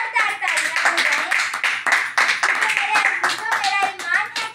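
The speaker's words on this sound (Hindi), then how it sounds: "खुदावंद के जलाल के लिए जोरदार तालियां बजाएं।" A church congregation bursts into loud, sustained clapping during a Hindi-language Christian worship service, with voices mixed in beneath the dense applause.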